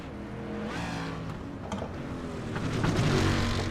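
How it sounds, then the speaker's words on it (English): Several race cars roar past close by, engines revving and whining as they sweep through, the noise swelling louder toward the end. "that was loud as they literally just go right past my camera"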